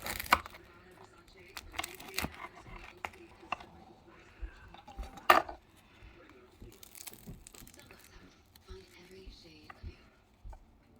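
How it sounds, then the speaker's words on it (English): A knife sawing through a crusty homemade no-knead loaf, with scattered soft crackling crunches and scraping strokes at close range, fairly quiet, under a low hum. "I'm going to do a little cut so you can see how beautiful this bread looks"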